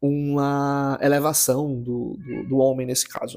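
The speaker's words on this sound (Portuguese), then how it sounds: "gatinho tá aqui também pertinho" A house cat meows close by in a home, several wavering calls mixed with a person talking over it.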